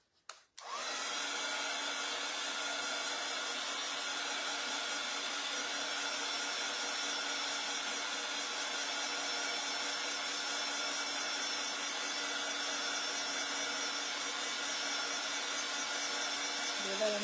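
A handheld heat tool runs steadily over chalked paper craft work, a continuous even whirring blow that starts abruptly and holds unbroken for the whole stretch with no talking.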